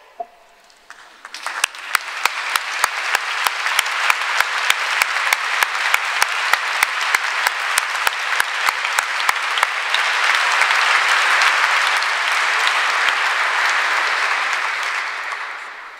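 Sustained applause from a large crowd at a graduation ceremony, building from a few claps into a dense, steady roar of clapping that holds for many seconds.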